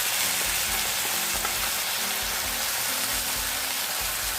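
Prepared sauce hits fried onions and capsicum in a hot pan for chilli paneer, a loud dense sizzle with stirring scrapes, continuous and close for the whole stretch.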